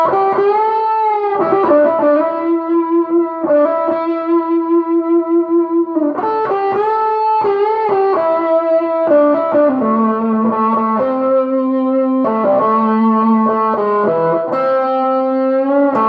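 Electric guitar run through an Acorn Amplifiers Klon-clone overdrive pedal, played conservatively at high volume: clean-to-mildly driven chords and sustained notes ring continuously for sixteen seconds with shifting harmonies, no voices.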